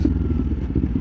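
A 2024 Kawasaki Ninja 500 fitted with an aftermarket exhaust rumbles steadily at close range, a deep, throbbing engine note with a pulsing low-end burble throughout.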